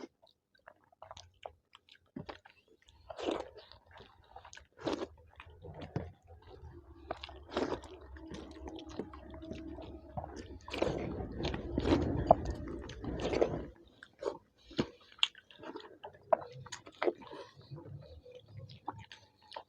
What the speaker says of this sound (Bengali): খাওয়া দাওয়াটা স্টার্ট করবো